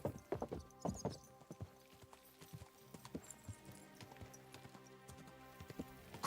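Horse hooves clip-clop at a walking pace in the medieval role-playing game Kingdom Come: Deliverance II, a close, steady rhythm of hoofbeats, busier at first and then settling into an even gait with game ambience behind.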